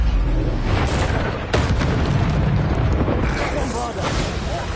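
Repeated Bombarda spell blasts in Hogwarts Legacy, a dense, loud wall of booming explosions and bursts throughout, with a player's voice calling out spell names over the combat.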